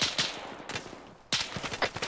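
Bursts of video game gunfire from a military campaign, sharp repeated shots crackling close in two clusters separated by a brief lull, with no voices.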